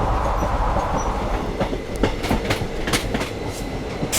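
An Intercity Express train rolls along, heard from inside an AC chair car coach: a steady loud rumble of the carriage with repeated rhythmic clacks of wheels over rail joints, no voices.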